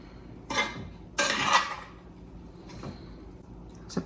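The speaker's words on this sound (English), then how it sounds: "now I'm just gonna mix this with a spoon to get it all mixed up" A spoon clinks and scrapes twice against a bowl while stirring blueberries with lemon juice, two distinct metallic strokes standing close and alone, with a faint tap after them.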